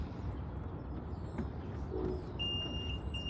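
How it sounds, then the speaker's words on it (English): The power tailgate of a 2012 Acura MDX beeps three times, high-pitched electronic warning beeps starting near the end over a low, steady background rumble. "It'll just beep 3 times if it can't."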